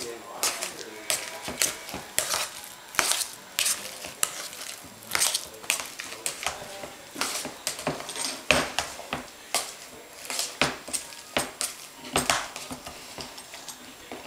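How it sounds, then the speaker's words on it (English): Boiled potatoes are mashed in a bowl for shepherd's pie, heard up close as a steady series of sharp clanks and soft squishing thumps from the masher hitting the bowl. The rhythm stays irregular throughout. "we are ready for our mashed potatoes, which I will mash up here."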